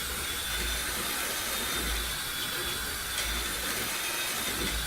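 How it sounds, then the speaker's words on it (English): A hand drill spinning a sanitized paint stirrer to aerate freshly brewed beer wort gives a steady, loud, continuous whirring hiss and churn that runs unbroken throughout, close up, with no talking. "And we do that with a drill"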